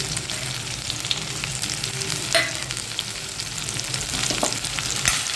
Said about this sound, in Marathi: याच्यात मी आता भेंडी घालते